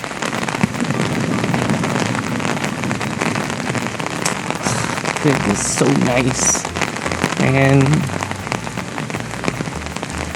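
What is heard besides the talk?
heavy rain pouring at cherry blossom site in Japan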